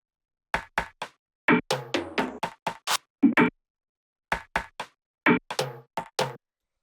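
Sharp, dry percussive hits in a syncopated electronic pattern, with short gaps and a brief pause midway, loud and isolated.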